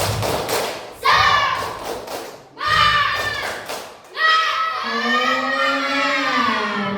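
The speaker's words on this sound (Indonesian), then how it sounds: "Tepuk semangat." A class of primary school children performs a rhythmic spirit clap in unison, with bursts of clapping and chanted voices in short phrases, loud and close in a classroom.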